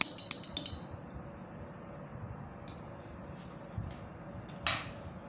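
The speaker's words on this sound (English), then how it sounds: "Stir it to dissolve." A spoon stirring ginger juice into a glass of water, with a quick run of bright clinks against the glass at the start, then a quiet pause broken by a few scattered taps and a final clink.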